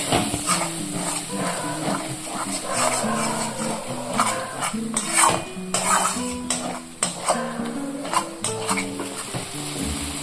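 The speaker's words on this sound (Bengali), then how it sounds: "এবার আমি এটা ভালো করে মিক্স করে নেবো" A spice mixture being stirred in a pan while cooking, heard as repeated scraping and clinking of a utensil against the pan over a soft sizzle, with background music.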